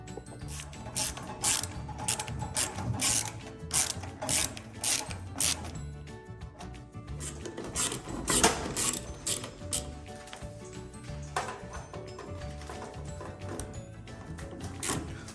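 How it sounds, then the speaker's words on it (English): Ratchet screwdriver working on a GE microwave door switch (model JEB1860SM2S), giving bursts of rapid, close, clicking ratchet ticks separated by brief pauses, with no talking. "best way to use this type of a screwdriver"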